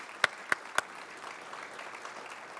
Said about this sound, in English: So could we have a round of applause for all those wonderful sponsors this morning?